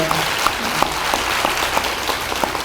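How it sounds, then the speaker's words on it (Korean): Dense, brisk applause from an audience at a university lecture hall, many hands clapping steadily and close for the whole stretch. "박수로 한번 환영해 주시죠"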